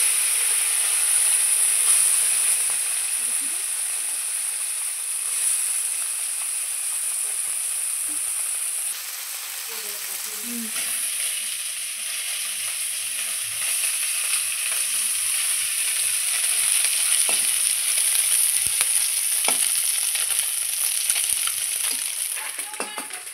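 Small pond puti fish frying in hot oil, a long, steady hissing sizzle with occasional faint clinks and stirring scrapes, dipping briefly before rising again.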